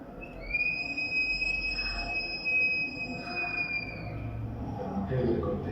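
Anthropomorphic ceramic whistling bottle sounding like a man whistling: one clear, sustained high whistle with a faint overtone holds steadily for a few seconds, then cuts off, with quiet room background and no talk.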